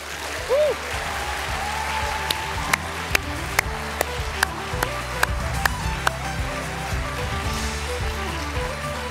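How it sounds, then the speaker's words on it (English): Audience applause at the FilmG 2025 Gaelic film awards ceremony, a steady wash of clapping running throughout with a few sharp claps standing out and a brief voice near the start. "I love the round of applause though, that was great"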